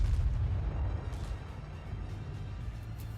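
Naval guns fire on a battleship in World of Warships, a heavy low boom at the start that rolls into a long rumbling decay, loud and without talk.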